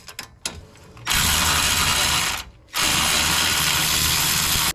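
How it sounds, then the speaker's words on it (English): Cordless ratchet spinning out loosened 17mm hub bolts on a Nissan 370Z, two long steady whirring runs separated by a short pause, loud and close after a few clicks of handling. "And then once I break it loose, I use my cordless ratchet."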